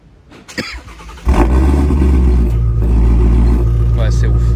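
A Shelby car engine cranks after a moment of faint background voices, then catches and settles into a loud, steady, deep idle rumble that holds to the end.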